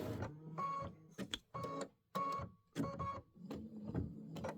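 An Aveneer embroidery machine stitching a Halloween tile scene in a sewing room, giving bursts of fast mechanical whirring and clatter broken by short pauses, steady and close with no voices.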